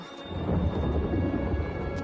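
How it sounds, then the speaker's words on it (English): A thunderstorm in the video game New World: Aeternum, a deep rolling rumble of thunder swelling and holding over two seconds, loud and close, without voices. "That is no natural storm."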